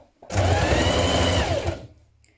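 A sewing machine hems the bottom of a dress, starting abruptly and running at a steady, fast, loud whir for about a second and a half before winding down to quiet.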